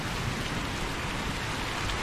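Rain falls steadily in a VRChat virtual world, a dense, even wash of drops with no pauses.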